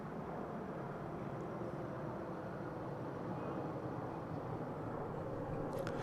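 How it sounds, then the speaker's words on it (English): A UPS Boeing 767 taking off at DFW Airport: a steady, broad jet roar that holds at a constant level throughout, distant and continuous with no talk over it. "We've got a UPS 767 ready to take off."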